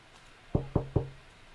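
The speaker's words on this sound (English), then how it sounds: "I did knock on wood." Three quick, evenly spaced knocks on wood, close and hollow-sounding, over a quiet background.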